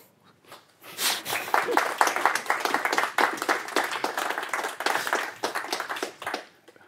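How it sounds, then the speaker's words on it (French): A small audience claps after a Python meetup talk in Rennes about pre-commit code hooks. Steady, dense applause swells quickly and carries on for several seconds before fading out. "des applaudissements?"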